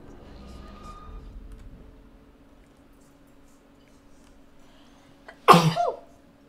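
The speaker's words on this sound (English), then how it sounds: "I'm gonna sneeze." A single loud, abrupt sneeze bursts out near the end after quiet room tone and a faint hum, in the Life Is Strange game.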